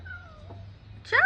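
A cat in an outdoor playpen on a deck gives a faint, thin meow, then a louder, sharper meow close by at the end, with a low hum underneath.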